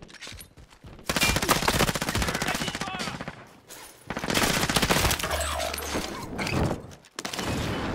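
Bursts of automatic gunfire rattle through a Call of Duty Warzone battle royale quads match, loud and dense, in two long volleys separated by short lulls.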